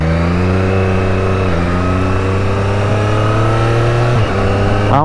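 Yellow 2023 Triumph Street Triple 765 RS motorcycle engine revving hard close by, strong rising harmonic tones climbing through gears with quick shifts, loud and continuous with no talking.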